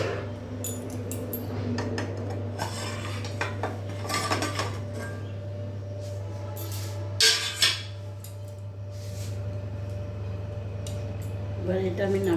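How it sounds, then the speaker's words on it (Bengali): Metal lid lifted off a pot of steaming egg bhapa in a home kitchen: a couple of sharp metallic clanks over faint utensil clatter and a steady low hum. "ঢাকাটা খুলে নেব।"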